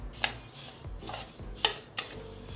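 Raw rice dry-roasting in a pan, with soft scraping stirs and a few sharp clinks of a utensil against the pan, quiet and close.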